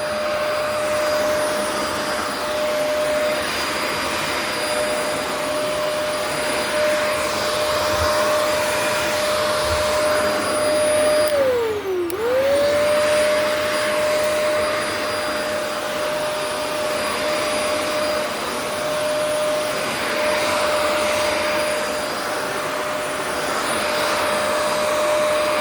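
Shark vacuum cleaner running in a steady, loud whine for a long stretch, its pitch dipping briefly once midway before recovering, with no talking.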